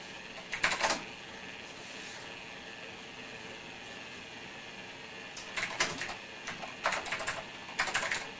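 Typing on an old computer keyboard at an MS-DOS command prompt: short bursts of clacky keystrokes near the start and again toward the end, separated by a steady hum of the machine.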